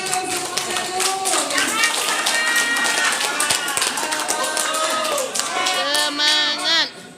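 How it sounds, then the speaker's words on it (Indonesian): An audience claps steadily through a quiz final, a dense rattle of many hands running almost to the end, with a voice speaking over the applause. "Beri aplaus lagi untuk semuanya dulu"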